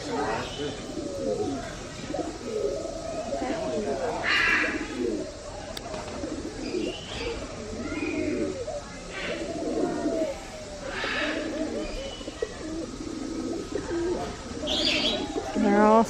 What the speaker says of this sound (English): It's probably some kind of pigeon.